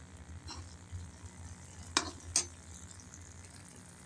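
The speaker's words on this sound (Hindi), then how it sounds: "तो अब ये हमने इसमें टमाटर छोंक दिए" Tomatoes hitting a pan of frying masala give a faint, soft sizzle, with a couple of sharper clinks from stirring partway through and no voices.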